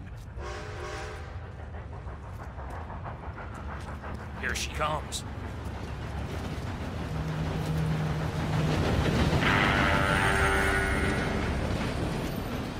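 A steam train draws closer in the video game Red Dead Redemption 2, its rumble building steadily to a loud roar with a horn-like tone, while someone speaks briefly and sheep bleat nearby.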